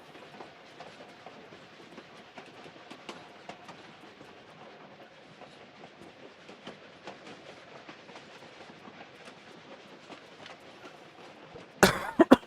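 A train rolls along steadily in Tomb Raider IV, a continuous rumble broken by rhythmic clicks and clacks, with a sharp burst of louder noise at the very end.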